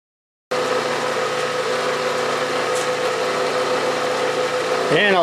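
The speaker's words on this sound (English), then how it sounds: "I'm using this 2-fluted carbide mill." A two-flute carbide insert mill cuts a cast drill press vise casting on a milling machine. A loud, steady grinding whine starts abruptly after a moment of silence and runs evenly for about four and a half seconds, then ends in a rising sweep.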